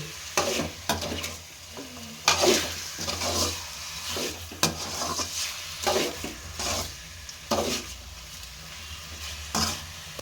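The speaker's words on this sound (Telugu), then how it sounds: "నూనెలోనే బాగా పచ్చివాసన పోయేంత వరకు వేయించుకోవాలి" Chicken pieces frying in oil for a homemade chicken curry, with a steady close sizzle broken by repeated scraping stirs of a spoon against the pan, no talking.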